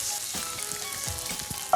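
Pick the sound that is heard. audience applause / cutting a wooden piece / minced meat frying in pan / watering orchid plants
minced meat frying in pan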